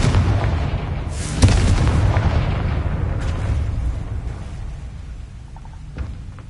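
A Confringo blasting spell explodes in Hogwarts Legacy, a loud booming blast with a rumbling roar that swells and then slowly fades, with a few softer thuds trailing off, no talking.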